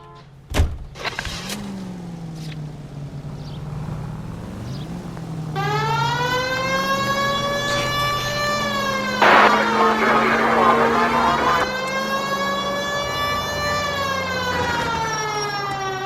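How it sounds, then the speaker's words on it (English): A police car siren in the video game L.A. Noire wails close and loud after a short engine start and rumble, its rising and falling tone sustained to the end. "We have a siren."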